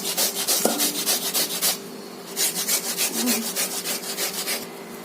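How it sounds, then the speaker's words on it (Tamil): Peeled raw plantain is rubbed hard against a metal grater to make vada, giving a rapid rhythmic scraping of close, loud strokes with one brief pause in the middle. "இதை வந்து இந்த மாதிரி இதில் நல்லா துருவிக்கணுங்க"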